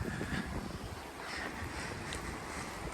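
Cold wind at Whitby buffets the microphone in a steady low rumble with rustling, continuous throughout and no one speaking.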